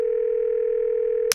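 Cartoon telephone dial tone, a steady pure electronic hum held loud and unbroken before cutting off with a brief click.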